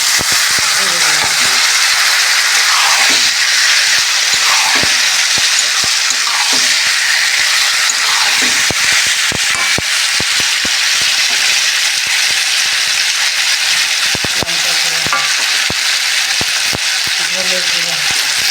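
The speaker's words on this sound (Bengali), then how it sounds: "এরপর মাছটাকে ভেজে দিলাম।" Fish fries in hot oil in a pan, giving a steady, loud sizzle throughout with occasional stirring clatter and scraping.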